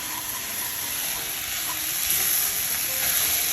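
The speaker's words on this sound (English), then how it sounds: "we're gonna add in our arborio rice. So we're gonna go ahead and toast it a little bit." Arborio rice toasts in a Staub cocotte for a coconut mushroom risotto, giving a loud, even frying hiss that holds steady and swells slightly.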